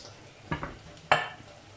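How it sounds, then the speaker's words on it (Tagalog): Garlic and onion sautéing in a pan: a faint, steady sizzle broken by two brief, close scraping stirs about half a second apart. "So guys, nagigisa na natin yung bawang sibuyas."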